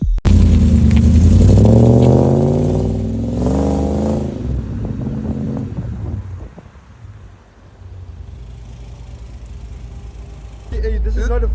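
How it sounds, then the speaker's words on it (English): The engine of a buggy, not a Ford, revs up and down in a few rising surges outdoors, with wind buffeting the mic, then settles into a lower idle as someone talks over it. "this is not a Ford engine in this buggy"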